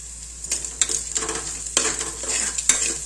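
Salted onions fry in a pan with a steady sizzle as a utensil stirs them, the scrapes coming in several separate bursts.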